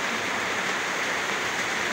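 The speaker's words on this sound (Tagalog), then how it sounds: "Lalong lumakas yung ulan" Heavy rain pours down in a steady, dense hiss, loud and unbroken throughout with no voices over it.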